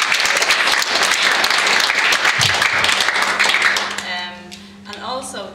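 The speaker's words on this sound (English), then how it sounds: "a round of applause should be given to" Audience applause at the presentations of the 2018 RILSA Irish Open, a dense, loud burst of clapping that fades after about four seconds into softer scattered claps and voices.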